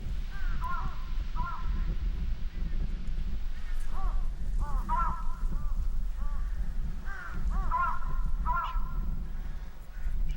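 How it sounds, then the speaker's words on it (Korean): Rooks calling in the Gotjawal forest of Jeju, Korea, in winter: a flock gives repeated harsh caws in loose bursts over a steady low rumble. Some calls come close and others sound farther off. "먹이를 찾아 산으로 들로 헤매다녔던 떼까마귀"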